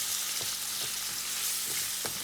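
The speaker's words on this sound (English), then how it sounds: "So we're just gonna fry them a little bit," Prawns frying in a pan make a continuous, even sizzle with occasional soft stirring taps, heard alone without speech.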